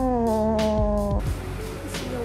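A cat meows loudly and close by, one long drawn-out cry that bends downward, followed by quieter background noise.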